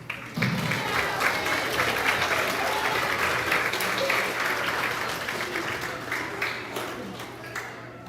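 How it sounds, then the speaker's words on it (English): Sustained audience applause fills a grades 4-6 school awards ceremony, dense steady clapping from a full room holding level for about eight seconds, then tapering slightly toward the end with no talk over it. "Give them one more round of applause."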